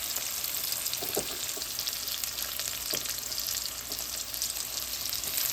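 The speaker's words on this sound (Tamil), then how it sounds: "இப்போ பூண்டு வதங்கிட்டுது." Garlic, mustard seeds, cumin and chillies frying in hot oil for a Tamil cabbage stir-fry, giving a steady dense sizzle with a few soft stirring knocks, no voices.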